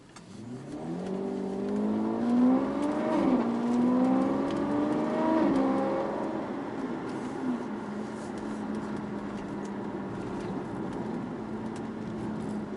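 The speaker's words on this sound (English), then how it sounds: "That's why we call it a boxer engine." A car's boxer engine revs up in rising and falling pitch sweeps, then settles into a steady idle hum, fairly close with no talking.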